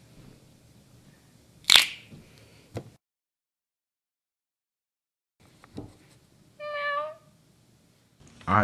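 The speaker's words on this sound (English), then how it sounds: "Oh, kitten. Well, what do you know? I love kittens." A kitten in a cartoon gives one short, rising meow near the end, preceded by a couple of sharp clicks and a thump, with quiet gaps between.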